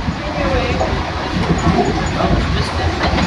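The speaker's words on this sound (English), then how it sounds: "She's a 12-wheel drive, oil-burning locomotive." A 12-wheel-drive, oil-burning steam locomotive built in 1928 on the Yosemite Mountain Sugar Pine Railroad rumbles steadily up close, with a continuous broad roar of running gear and rail noise throughout.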